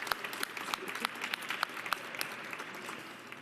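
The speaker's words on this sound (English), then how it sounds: "I think that deserves a round of applause" Applause from a press conference audience at a maternal health announcement hosted by the First Lady of New York City, steady scattered clapping from a modest indoor crowd heard alone at moderate level.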